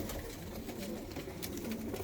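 A female pigeon in a loft gives soft, continuous cooing, fairly close and steady throughout, with no talk over it.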